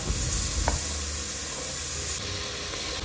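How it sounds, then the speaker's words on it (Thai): Sliced beef tipped into a hot pan and stirred, giving a bright steady sizzle with a few scraping stirs near the start, close and continuous throughout. "แล้วก็ตามด้วยเนื้อนะครับ ที่เราหั่นเสร็จนะครับ ผม ใส่ลงไปให้หมดเลยนะครับ"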